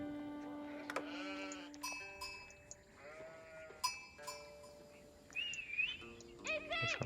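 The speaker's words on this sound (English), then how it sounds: "Players getting some of the early sheep as per usual" Sheep bleat repeatedly in the strategy game Age of Empires on the Altai map, several short wavering calls scattered across the clip over soft background ambience with bird-like chirps, no talk.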